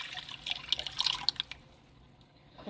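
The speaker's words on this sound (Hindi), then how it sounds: "खोल को डाल देना है" A curd and gram flour mixture poured into a pan of fried onions, giving quiet wet splashes and drips for about a second and a half before the pan goes almost silent.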